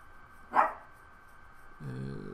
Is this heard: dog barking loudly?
yes